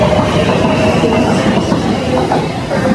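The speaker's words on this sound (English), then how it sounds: "So my train is finally arrived, so I'm gonna take that train" An Elizabeth line train rolls into a London station, steady rumbling and clattering wheels close by, loud and continuous with no talking.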